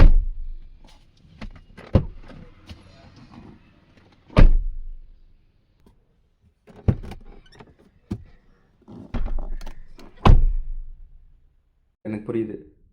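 MG Astor car doors fitted with door shock absorbers close several times, each a soft dull thunk spaced a few seconds apart, close by, with a person speaking between the closes.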